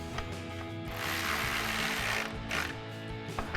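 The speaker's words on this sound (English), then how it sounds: "We'll go ahead and tighten everything back down again with our 8mm socket on our ratchet." A ratchet with an 8mm socket tightening bolts while a switch control box is installed on a Jeep Wrangler JK, a close, steady run of rapid clicking pawl ticks with a few louder bursts.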